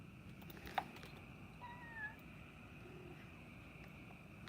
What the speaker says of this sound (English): We're about to have a cat fight.